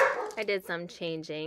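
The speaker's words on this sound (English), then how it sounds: "sorry about the dogs" Several dogs bark in quick yapping bursts close by indoors, sharp repeated barks that overlap with someone talking.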